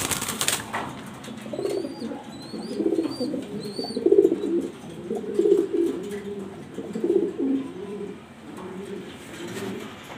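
Pigeons coo in repeated low, rolling phrases at close range, a steady murmur of several birds with faint higher chirps drifting above.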